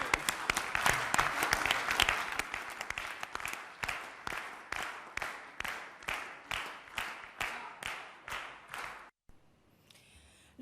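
A standing audience in a national assembly chamber applauds, first as a thick burst of many hands, then settling into slow, rhythmic unison claps that fade before the sound cuts off near the end.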